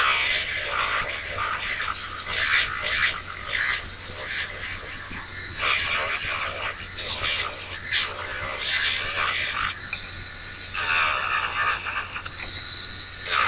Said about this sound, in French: Donc là je lime tout l'ongle, j'enlève la démarcation